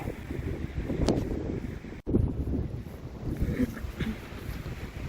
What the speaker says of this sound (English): Oh boy, this wind.